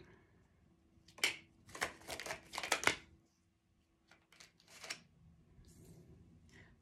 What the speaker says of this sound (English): Kind of a messy shuffle.